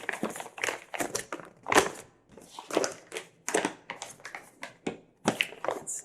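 Sheet of parchment paper handled close up in a quiet ASMR setting, with repeated soft crinkles, taps and rustles in uneven bursts and no talking.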